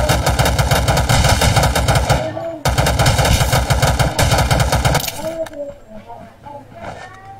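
Rapid automatic gunfire fills a first-person shooter match, with loud, dense bursts that break off briefly and then resume before fading into scattered shots and clinks. No speech stands out over the shooting.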